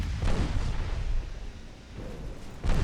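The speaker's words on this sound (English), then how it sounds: "we have a torpedo detonation" Torpedo detonation in the naval game Ultimate Admiral Dreadnoughts, a loud, dense rumbling blast that swells, eases and surges again, with no voices.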